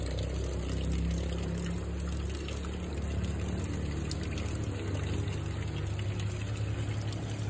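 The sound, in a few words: weak trickle of dripping water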